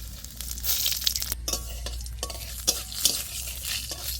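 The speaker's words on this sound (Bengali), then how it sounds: "শুকনো লঙ্কা আর কালো জিরে ফোড়ন" Dried red chillies and nigella seeds hit a little hot mustard oil, crackling and spitting in bright bursts with a few utensil scrapes over a low steady hum; nobody talks.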